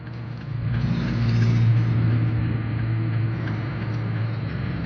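Car engine droning steadily from inside the cabin while cruising slowly in search of a parking spot near a barbershop in Antipolo, a low continuous rumble that swells slightly midway with no talking.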